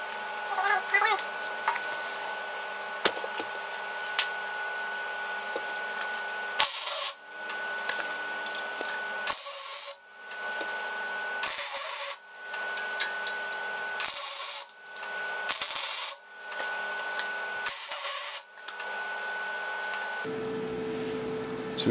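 Tack welds go onto a steel rear track bar mount on a vehicle axle as a series of short, loud hissing crackles, roughly six bursts separated by quiet gaps, with a little talk early on.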